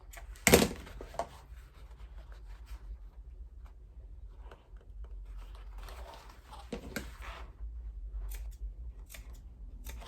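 Sewing snips cut into a fabric seam allowance: one sharp close snip near the start, then a few softer scattered cuts and a second clear snip later, over quiet room tone.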